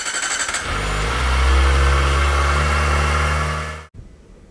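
A Kawasaki ZX25R motorcycle fitted with an aftermarket exhaust revs loudly and steadily for several seconds, then cuts off abruptly, leaving a quieter idle tail.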